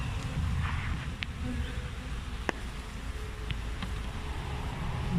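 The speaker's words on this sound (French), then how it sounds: "Dans le tas d'abeilles là." Honeybees buzz in an open hive during a brood check, a dense, steady hum close by with a few individual bees darting past, continuing throughout without pause.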